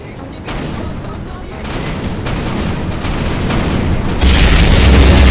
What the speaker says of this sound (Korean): 수류탄 발사기 가자